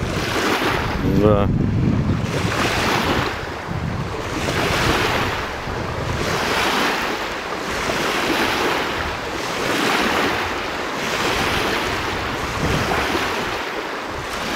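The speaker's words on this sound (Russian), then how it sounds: "Прошла лодка, сейчас будет обратно эта волна техногенная." Wake waves from a passing boat slosh against the shore of a river in late autumn, a steady rhythmic surf with gusting wind noise; a single brief voice near the start.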